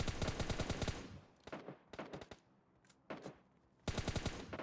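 Rapid automatic gunfire in the mobile battle royale game PUBG Mobile Lite, loud bursts of fast repeated shots broken by short pauses and a few single cracks, with the fire resuming in a sustained burst at the end.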